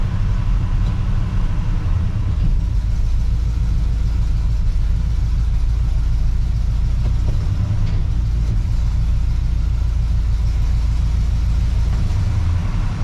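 A car is driven while its transmission is tested, its engine rumbling low and steady from close inside for the whole stretch, with no clear revving peaks.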